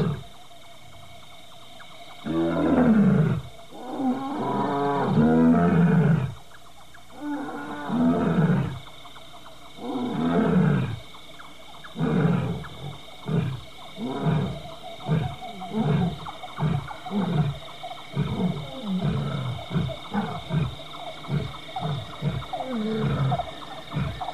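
Lions roar at night in Sasan Gir National Park, a series of deep, loud calls that build from long drawn-out roars into a rhythmic run of shorter grunting pulses, close and clear with no talking.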